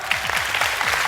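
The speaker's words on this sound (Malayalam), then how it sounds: "എല്ലാരും ചേർന്ന് നല്ല കൈയടി" Studio audience applause on a Malayalam television comedy stage show, a steady dense wash of clapping that runs loud and continuous through the whole short moment.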